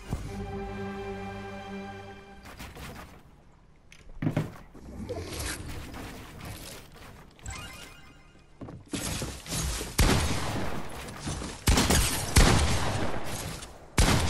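Fortnite gunfire and impacts: a few loud, scattered shots and thuds early on, then dense, heavy bursts of shooting and crashing noise building toward the end, close and forceful.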